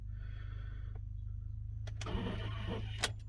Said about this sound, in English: So it takes 3 times to start this, so I turn the key, listen to what it does.